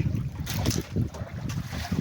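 Wind gusts buffet the microphone outdoors, a rumbling, uneven roar that swells and fades, with some faint talk mixed in.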